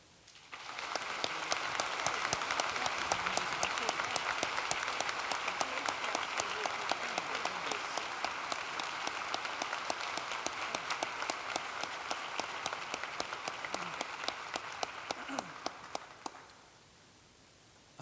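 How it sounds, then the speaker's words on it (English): Sustained audience applause at a 2019 high school graduation ceremony, dense steady clapping from a large crowd lasting about sixteen seconds before cutting off into quiet. "Once again, please, round of applause."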